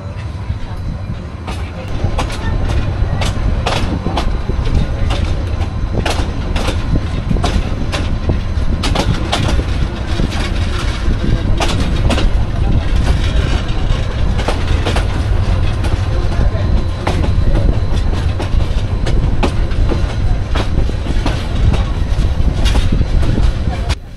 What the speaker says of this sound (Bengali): আমাদের ট্রেন সিলেট থেকে ছেড়ে দিল।